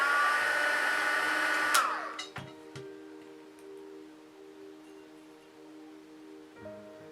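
A heat tool blows a loud steady whine while heat-setting embossing powder, then cuts off abruptly, leaving a faint hum with a few small clicks and taps.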